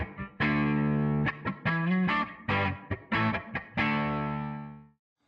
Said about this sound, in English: here we have our TC DVR250 desktop reverb plugin hardware controller